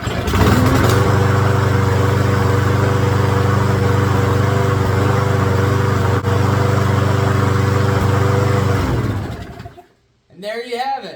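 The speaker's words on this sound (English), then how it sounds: "she fires up good now" A Craftsman push mower's small engine, freshly running again after a carburetor cleaning, roars loud and steady up close for about nine seconds, then cuts out, and a voice follows briefly.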